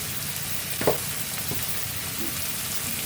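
Ground spice paste with turmeric, salt and mutton fries in a pan, producing a continuous close hiss with an occasional clack of a spoon or ladle, and no talking.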